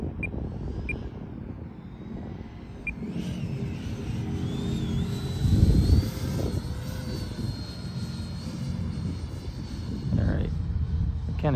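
A Mirage 2000 80mm EDF model jet flies over a gusty field, its steady high whine and airy roar swelling and fading as it passes, continuous for the whole stretch with wind buffeting.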